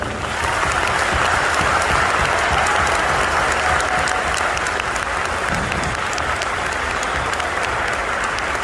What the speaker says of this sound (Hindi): एक बार अपने अपने अपलाइन के लिए तालियां बजाओ।